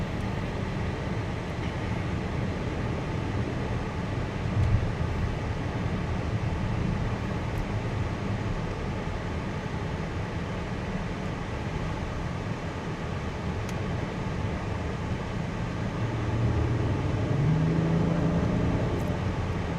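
A 2026 Acura MDX Type S Advance with a 10-speed automatic accelerates, and a steady broadband road and engine roar fills the cabin. The roar swells slightly near the end, with no voices over it.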